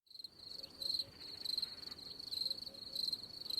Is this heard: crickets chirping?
yes